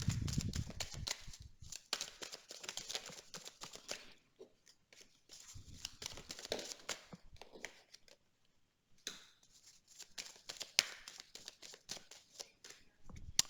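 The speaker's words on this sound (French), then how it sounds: "on va tirer maintenant les cartes pour les décomptes." Tarot cards shuffled and drawn by hand in bursts of soft riffling and crisp card snaps, with a few quiet pauses between, close and fairly faint with no talking.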